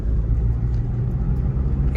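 A used car's engine pulls in third gear, producing a steady, close, low rumbling drone that stays loud and even without speech.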